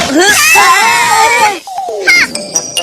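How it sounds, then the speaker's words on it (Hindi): A cartoon character in a Hindi-dubbed animated film lets out a loud, long, wavering scream that lasts about a second and a half, followed by shorter shrill cries. "चिल्लाए क्यों?"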